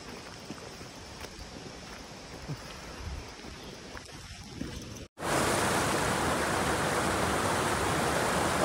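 A mountain river stream flows with a loud, steady rushing roar that cuts in suddenly after a quieter stretch of faint outdoor ambience.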